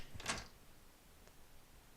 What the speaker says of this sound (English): there is a noise at the door